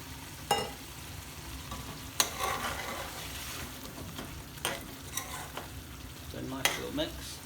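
Lamb balti frying in a hot pan while being stirred, a steady close sizzle broken by several sharp scraping stirs across the metal, with no talking.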